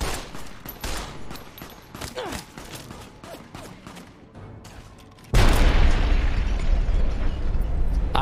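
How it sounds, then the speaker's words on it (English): In the video game Fallout: Tale of Two Wastelands, a landmine goes off: rapid gunfire pops and clicks lead into a sudden loud blast that rolls on as a heavy, sustained roar. "It was a mine or something or some whatever thing, and I died."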